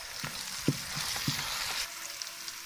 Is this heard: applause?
no